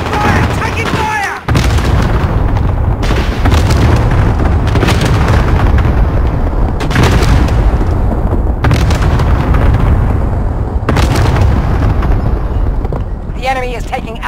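Cluster strike explosions in Call of Duty Modern Warfare arrive as a series of heavy booms every couple of seconds, loud and close, mixed with gunfire and a voice speaking near the end.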